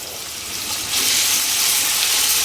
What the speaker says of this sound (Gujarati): ડુંગળી થોડી ટ્રાન્સપરન્ટ થાય ને ત્યાં સુધી સાંતળી લેશું